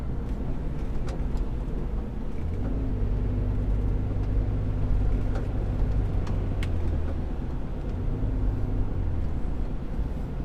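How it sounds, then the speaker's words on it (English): A BMW X3 E83 drives along with a steady low rumble of road and drivetrain noise, a faint droning hum from the rear differential or drive shaft running continuously underneath, with no talk. "That's almost got to be drive shaft related or differential."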